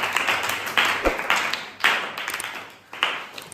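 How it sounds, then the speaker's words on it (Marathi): Students applaud for a classmate named Rupali in a classroom, giving a short burst of scattered clapping that rises and falls in a few uneven waves. "टाळ्या वाजारे रे रुपालीसाठी"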